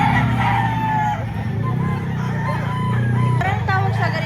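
Roosters crowing at a chicken market in Lipa, Batangas, repeated loud crows and clucks rising over a constant crowded background, close by, with people talking throughout.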